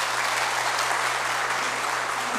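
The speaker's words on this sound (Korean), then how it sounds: "네, 그렇다면 큰 박수 좀 부탁드리겠습니다." Sustained audience applause at a county government performance briefing in Hwasun, a steady dense wash of clapping filling the room from start to finish with no talk.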